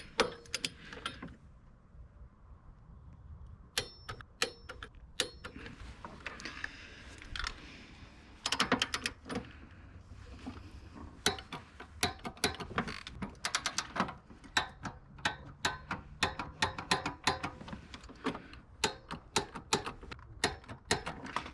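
A torque wrench checks the passenger-side motor mount bolts on a 2012+ Chevy Sonic or Cruze with the 1.4L engine, giving sharp, close ratcheting clicks in scattered bursts and quicker runs against a quiet workshop background.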